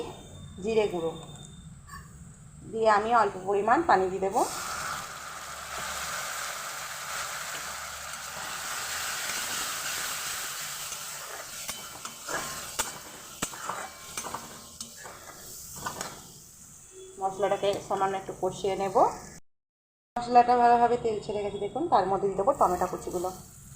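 Tomatoes with turmeric and chili powder frying in a pan for paneer bhujiya, a steady sizzle with spoon stirring and scraping, interrupted by stretches of someone talking over it.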